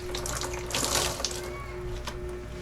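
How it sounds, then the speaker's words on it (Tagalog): Water pours steadily over a dialysis patient's hair before shampooing, a continuous close splashing stream with a brief heavier gush partway through and a faint steady hum beneath. "kailangan buhusan muna natin yung kanyang buhok bago natin siya lagyan ng"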